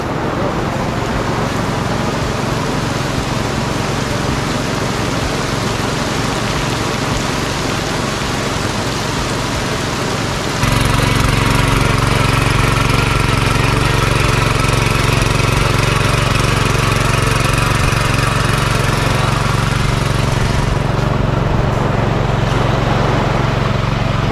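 A tractor engine runs in a flooded rice paddy during monsoon planting in Konkan, a loud, steady drone close by that holds without pause and steps up slightly partway through.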